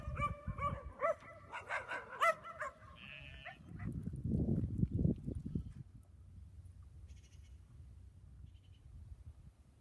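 Dogs barking on a nature hike near Tamraght, Morocco: a burst of loud, close barks and yelps from several dogs, then quieter rustling and panting as the barking fades.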